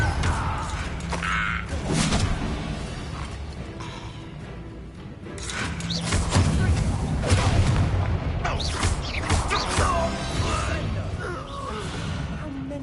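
Fiery Confringo spell blasts in Hogwarts Legacy thud and boom repeatedly amid combat clatter, layered under a talking voice and game music.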